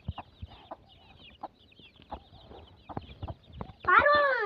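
Chickens cluck in short, scattered bursts around a farm, fairly near and moderate in level, building to a louder, busier squawk at the end.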